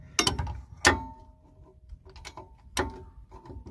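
A ratchet wrench works the bolts on the rear wheel hub of a Citroën C1: a few sharp metallic clicks and clunks in separate bursts, close and fairly quiet, without talk.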